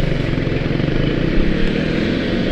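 Motorcycle engine while riding through slow traffic, a loud, close, continuous rumbling drone with steady wind and road noise and no break over a couple of seconds.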